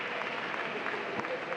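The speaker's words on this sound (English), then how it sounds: "where's the applause coming from?" Scattered applause from a crowd at a freediving pool championship, steady and moderately loud, with a faint murmur of voices underneath.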